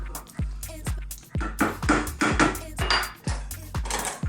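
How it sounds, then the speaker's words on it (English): A spoon scrapes and clinks against a pot of fast Indian chicken curry with a touch of garam masala, in a steady series of close, repeated knocks and scrapes with no talking. "Give that a stir."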